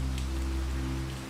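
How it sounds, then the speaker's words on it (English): Rain drums on the windows of a manor on a stormy night, a steady broadband patter and hiss over a low, constant hum, with no voices. "As the rain drums upon the windows"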